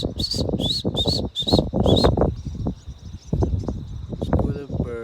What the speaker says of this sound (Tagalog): School of birds. They're coming.